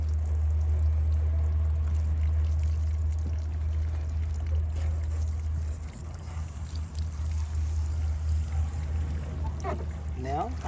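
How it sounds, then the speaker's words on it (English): Water rinses vinegar off a car headlight lens. It makes a soft, steady pour over a low constant hum, fairly faint throughout. "I'm just going to rinse it lightly so I can get all the vinegar"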